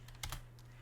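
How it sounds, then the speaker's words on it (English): Computer keyboard typing of commands in jewelry CAD software: a brief, faint burst of a few quick keystrokes, close and soft, with no talking. "I'm very used to typing in some commands"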